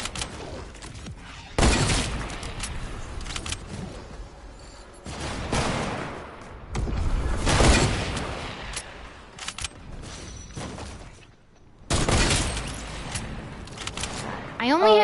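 Bursts of video game gunfire break out in several separate volleys, loud crackling fusillades with quieter stretches between them, and a voice talks over parts of the action.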